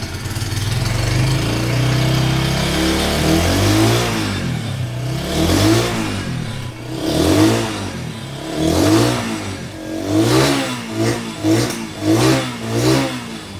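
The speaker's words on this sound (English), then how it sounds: "Another obvious difference is the pipe. Let you listen. Give it a start here." A Bristol 250 motorcycle engine runs through its exhaust pipe, starting with a steady idle and moving into repeated throttle blips and revving bursts, loud and close, with no talking.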